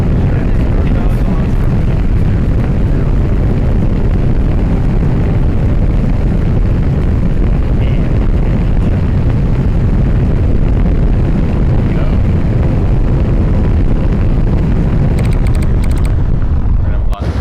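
A steady, loud, rumbling roar of Starship Raptor rocket engines burning in the spaceflight game Juno: New Origins runs unbroken and powerful, then cuts off abruptly near the end.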